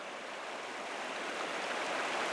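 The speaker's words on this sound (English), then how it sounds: "Here's a good flow in the river." River water on the Upper Mersey flowing around someone wading across, a dense close rushing and gurgling that holds steady and grows slightly louder, with no voices.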